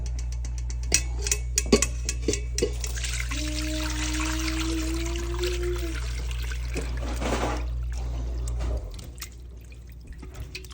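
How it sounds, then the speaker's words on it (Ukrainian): Liquid pours and trickles through a strainer with drips and splashes, close by over a low steady hum, then the flow stops. "Так, проціжуємо бульйон."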